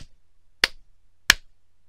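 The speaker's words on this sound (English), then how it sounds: "clapping 3 times loudly near the mic" Sharp hand claps struck loudly close to the microphone, two distinct bursts spaced about two-thirds of a second apart after a short quiet pause, each dying away quickly into near silence.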